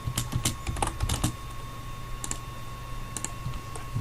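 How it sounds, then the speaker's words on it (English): Keys clacking on a computer keyboard during AutoCAD drafting, a quick burst of keystrokes at first, then sparser taps, close up over a constant low electrical hum. "So I'm just typing in the object snaps."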